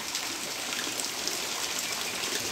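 Rain falling outside a village house, a steady soft hiss of drops and trickling water, fairly faint and continuous with no voices.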